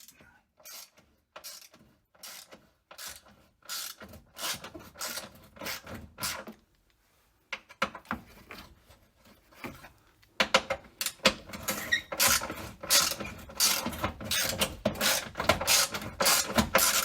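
Ratchet working a Torx bolt on the rusted frame of a Jeep Cherokee, with bursts of rapid clicking separated by pauses, growing denser and louder in the second half, close up.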